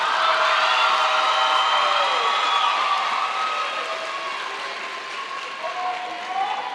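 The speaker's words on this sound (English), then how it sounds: "please give the top 10 a round of applause" Graduation audience applauding the top ten graduates, a busy wash of clapping with whoops and cheers, fading slightly toward the end.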